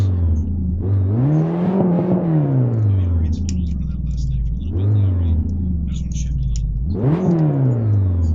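A car engine in the racing game Assetto Corsa, an Audi R8, revs up and down in three long sweeping pulls with rising and falling pitch, loud and continuous, with faint whispering-like noise above.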